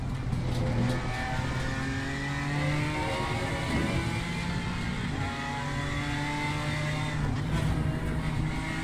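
BMW M4 GT4 race car engine in Assetto Corsa Competizione at Barcelona, loud and sustained, with steady engine tone and gear shifts rising and falling throughout, no talking.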